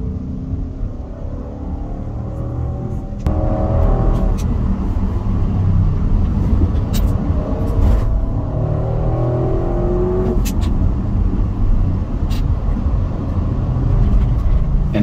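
Audi RS6 engine pulling hard under throttle through a turn on a race track, a steady loud roar with a sharper surge a few seconds in that holds strong to the end.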